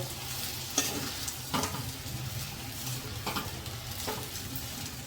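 Khari bhat, a Kutch-style spiced rice, being stirred in a hot pan over a gas flame, with steady sizzling and occasional scraping clicks of the spoon against the pan, close and continuous.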